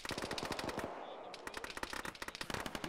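Rapid bursts of machine-gun fire in a military combat video game, many sharp repeated cracks in quick strings, somewhat faint and distant, with no talk over them.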